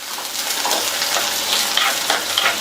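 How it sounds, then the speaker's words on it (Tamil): Garlic, onion and curry leaves sautéing in a hot pan, giving a loud continuous sizzle with stirring scrapes and light crackles up close, no voices. "அடுத்து கறிவேப்பிலை, எல்லாத்தையும் நல்லா வதக்கி விட்டுக்கலாம்."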